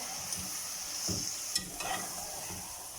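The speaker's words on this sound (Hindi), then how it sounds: "अब मैं मटर भी डाल देती हूँ। मटर डाल के भी इसको थोड़ा सा भूनेंगे" Peas frying in masala for aloo matar, a soft, quiet sizzle with a few light stirring scrapes in a pan, close and brief.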